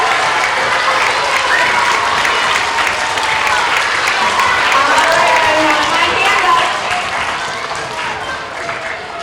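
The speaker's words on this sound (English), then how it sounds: "a big round of applause?" Big, sustained applause from children and staff at a pre-K to third grade school assembly honoring teachers, steady crowd clapping that tapers slightly near the end while a voice speaks over it.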